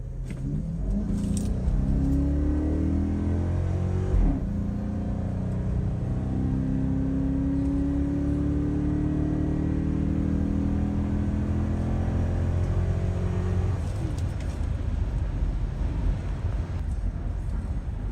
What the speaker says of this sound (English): We'll do a quick little acceleration right here and then we'll go on the Autobahn.